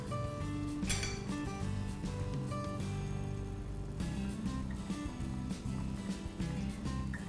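A chicken dish boiling in a pot is stirred, with clinks of utensil against metal and a bubbling wash under a continuous steady bed of kitchen noise, no talking.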